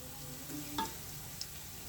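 Onions and black pepper fry for a mixed vegetable pulao, a soft steady sizzle close by with a brief clink of a spoon against the pot.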